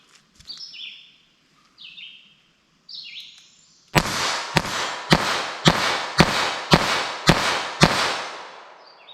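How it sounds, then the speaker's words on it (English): About nine sharp, loud gunshots from .22 Long Rifle cartridges fired in a handgun at an outdoor range, evenly spaced roughly half a second apart, preceded by birds chirping in the quiet. "We'll see how the 22 long rifle shoots."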